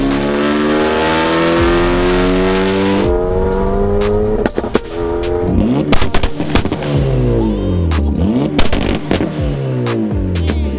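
A turbocharged Mazda Miata with a custom exhaust revs hard and accelerates, its engine note sweeping up and down through the gears, with sharp crackles and pops on the overrun, loud and close throughout.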